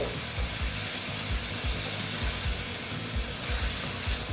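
Okra (bhindi) with a little water for a light gravy sizzles slowly in a pan over low heat, a steady soft frying hiss with faint low bubbling throughout and no voices.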